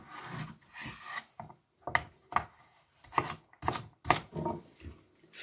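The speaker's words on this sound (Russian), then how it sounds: "Следующим шагом я нарезаю мои овощи" A knife chops and slices vegetables, including fennel, on a wooden board in a series of close, crisp strokes, irregular in rhythm with short pauses between cuts.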